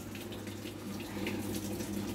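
Water running at a weak, low flow from a tap fed by a motor pump in a home garden, a soft, steady trickle and splash heard faintly and alone.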